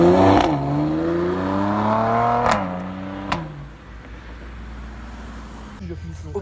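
A Mercedes C43 AMG estate revs loudly and close by, the engine note rising and falling with a couple of sharp clicks, then settling to a lower idle hum.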